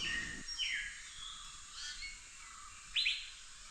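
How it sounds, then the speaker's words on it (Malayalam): Forest birds along the Aryankavu–Rosemala route chirp and whistle faintly in short, scattered bursts, with a brighter call near the end, over a quiet, distant woodland background with no talking. "കംപ്ലീറ്റ് പക്ഷികളുടെ സൗണ്ടാണ്"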